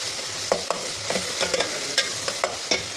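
Spices fry in a pan with moong dal, sizzling steadily while a spoon stirs them, giving off repeated close scraping clicks over the constant hiss.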